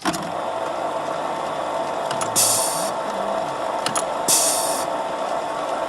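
A Kwik-Way SVSD valve refacing machine running steadily with a pilot fitted in place of the valve, giving a constant close mechanical whir with two brief hissing bursts partway through.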